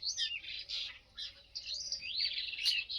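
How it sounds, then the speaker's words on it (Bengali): Small birds chirp and twitter busily in the trees, a dense, lively chorus of high calls that runs almost without pause and rises to a brighter burst near the end. "ছোট ছোট পাখিগুলো কীরকম আওয়াজ করছে দেখো"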